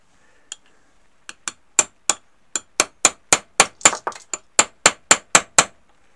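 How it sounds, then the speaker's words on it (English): Repeated sharp metallic taps from a copper hammer on a 3D printer part, about a dozen strikes in a steady rhythm, close and ringing. "give that a tap on the end with a copper hammer"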